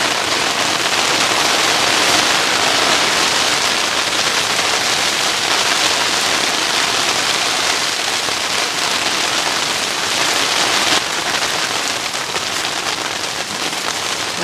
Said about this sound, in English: Yep, safe to say the rain's getting heavy.